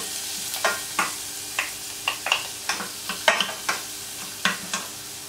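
Chopped shallots cook gently in melted butter in a pan, with a soft sizzle beneath a series of regular spoon scrapes and stirring taps, close and without talk.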